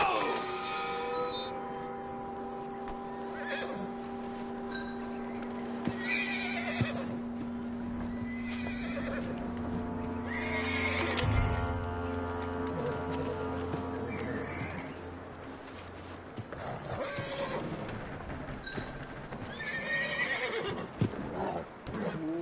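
A horse in Red Dead Redemption 2 lets out a loud, drawn-out whinny near the middle, set among clip-clopping hooves, snorts and a voice speaking softly over a steady game soundscape.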